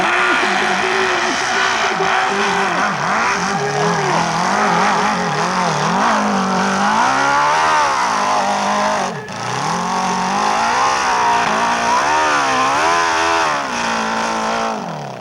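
A motorcycle climbs a steep hill at Arette in 1992, its engine revving hard and wavering up and down in pitch, loud and close, briefly cutting out midway before roaring again.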